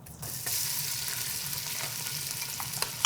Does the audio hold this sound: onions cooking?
yes